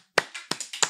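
A few sharp, scattered claps from an audience greeting a performer at his By Night performance, brief, close and fairly loud, with no talking.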